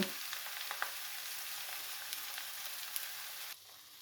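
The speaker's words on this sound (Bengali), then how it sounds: "আলু দিয়ে আমি কিছুক্ষণ ভেজে নেব" Diced potatoes sizzle steadily in hot oil in a pan for a methi greens and potato bhaji, a dense continuous crackle that drops abruptly quieter near the end.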